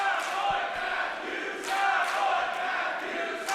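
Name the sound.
wrestling crowd dueling chants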